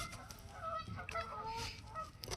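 Geese honking outdoors in a noisy, repeated chorus of nasal calls, several birds overlapping at moderate distance against steady low background rumble.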